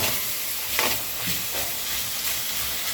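Meat frying in a pan with margarine or butter while cooking menudo, a steady close sizzle and hiss throughout with a few soft stirring scrapes.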